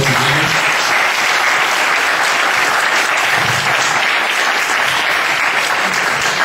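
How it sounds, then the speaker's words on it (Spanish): Sustained audience applause at an international symposium on critical thinking, dense, loud and steady clapping filling the whole stretch without a break. "Un aplauso para Alejandro."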